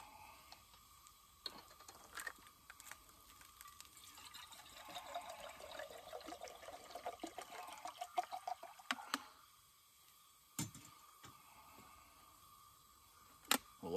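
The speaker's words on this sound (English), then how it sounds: "I'm gonna boil my water." Water in a Stanley cook set heats on a Coleman 502 stove, giving soft liquid trickling and faint hissing with scattered small metallic clicks and knocks, quiet and close with no talking.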